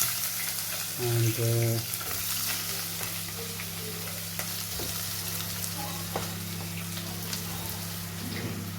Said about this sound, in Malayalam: സവാള നല്ലതായിട്ട് ഇളക്കി കൊടുക്കുക.